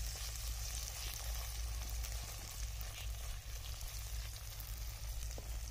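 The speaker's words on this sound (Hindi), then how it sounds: "बगैर नमक मिर्च के अभी मैं फ्राई कर रहा हूँ इसको" Okra and onions frying in a pan, a steady close sizzle with light crackling and occasional stirring ticks over a low constant hum, unbroken throughout.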